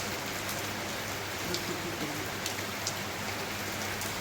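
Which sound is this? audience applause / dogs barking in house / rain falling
rain falling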